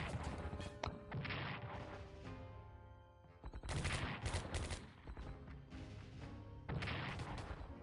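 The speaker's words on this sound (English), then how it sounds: "they're bombarding us quite heavily right now" Wartime bombardment in SC WWII: War in the Pacific, a strategy video game, with clusters of sharp cracking impacts and crashes in bursts separated by brief lulls, fairly quiet overall and without voices.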